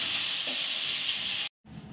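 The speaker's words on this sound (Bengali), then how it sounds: "মাখায়ে এই কড়ার তেলে দিলাম, দিয়ে মাছটা ভাজবো।" Fish rubbed with salt and turmeric frying in hot oil in a wok, a close steady sizzle that breaks off briefly near the end and returns more quietly.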